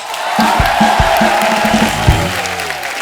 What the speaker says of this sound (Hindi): हमारे स्टार लोग के लिए जोरदार ताली